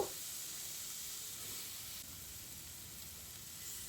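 Paneer pieces frying in oil in a pan give a steady, even sizzle and hiss that runs unbroken from start to finish, close and alone with no voices.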